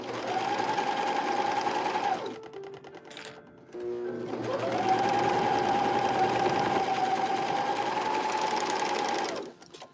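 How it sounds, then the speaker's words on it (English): Sewing machine stitching dusters and caftan dresses, a loud steady whirring hum in two long runs separated by a short pause with fabric handling clicks. "I am just sewing up some dusters and some caftan dresses and working on some orders."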